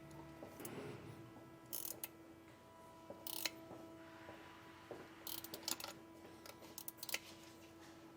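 A flexible-head wrench ratchets as it tightens a TireMinder 135-degree valve extender on a tire valve, giving faint, irregular metallic clicks and short bursts of ticking in a quiet setting.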